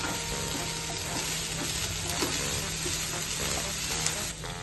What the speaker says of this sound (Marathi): फ्राय करूया सगळ्या व्हेजीज